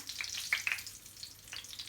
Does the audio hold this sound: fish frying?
yes